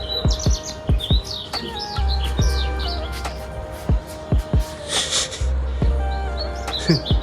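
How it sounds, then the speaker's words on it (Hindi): Several birds chirp and tweet back and forth in quick, high bursts, with a few soft knocks and a low hum beneath. "ये देखो इन चिड़ियों की अलग ही जुगलबंदी चल रही है"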